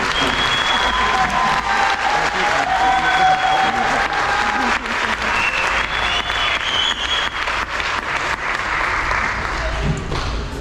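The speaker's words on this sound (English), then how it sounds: "let's give them another hand." An audience at a summer band camp concert applauds loudly and steadily for about ten seconds, a dense wash of clapping with a few cheers and a voice over it.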